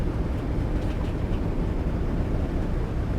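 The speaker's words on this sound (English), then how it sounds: "And right now we're just using the engine braking, slowing us down." Prevost coach slowing on a mountain road under engine braking, a steady low broadband drone that holds at an even level from start to finish, with no voices.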